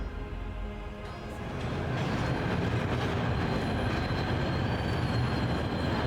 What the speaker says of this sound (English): Hey, my own train.